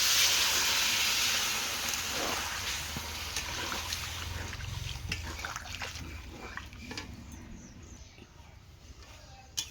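Water poured into a hot pan of spicy stingray fish curry sets off a loud, broad steaming hiss that is strongest at first and slowly eases over several seconds, with faint clinks near the end.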